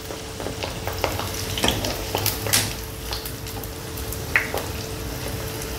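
Hot oil sizzling in a wok on a gas stove, heard as a soft, steady crackle with scattered sharper pops and light clinks, fairly close, with no voices.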